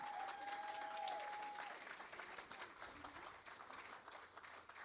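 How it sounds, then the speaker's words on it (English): Sustained applause from an audience at a 2021 adult education graduation ceremony, steady and fairly distant, with a brief tonal whistle or feedback tone near the start and no speech over it. "Let's give her a big round of applause."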